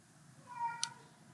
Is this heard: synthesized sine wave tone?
no